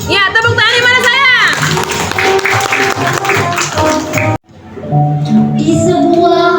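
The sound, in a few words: children's applause in a classroom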